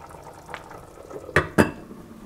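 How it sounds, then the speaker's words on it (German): Goulash soup with chunks of meat being stirred in a cooking pot on the stove, a few soft scrapes and two sharper clinks of the spoon against the pot, close up and with no talk. "Nun noch einmal umrühren."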